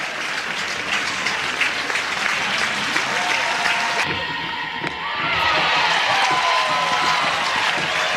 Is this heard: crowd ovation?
yes